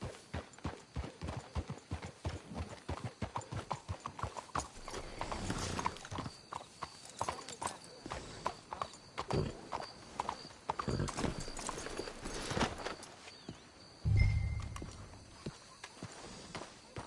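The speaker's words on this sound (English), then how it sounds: "Let's hitch the horses up ahead." Horses' hooves clip-clop in quick rhythmic steps in the video game Red Dead Redemption 2, slowing and thinning out toward the end, where a brief whinny-like cry and a low thump sound, with no speech.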